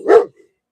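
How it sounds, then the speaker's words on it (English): A single close, loud dog bark or growl-like woof indoors, short and sharp, followed by a brief faint trailing whimper, with no talk over it. "Sorry about the dog growling in the background."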